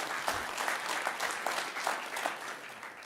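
Audience applause for poet Arjen Hut at a municipal election debate in Achtkarspelen, a steady dense clapping from a crowd filling the whole stretch at even loudness.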